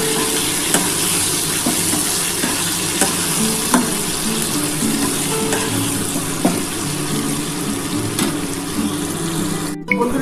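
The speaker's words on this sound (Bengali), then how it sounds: "আর এই যে দেখো, এটা মোটামুটি ভাজা হয়ে এসছে।" Onion and tomato fry in a pan with a loud, continuous sizzle, punctuated by occasional light clicks of a utensil against the pan.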